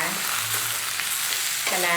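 Steady, dense sizzling of Chinese kale and crispy pork being stir-fried in a hot pan over medium heat, close and continuous, with a brief scrape of the utensil near the end.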